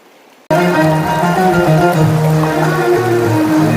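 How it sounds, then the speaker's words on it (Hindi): Fast-flowing water of the Choral river rushes loud and steady after a brief quiet start, a continuous broadband roar close by with no voices over it. "ये देखो इतना पानी तेज है।"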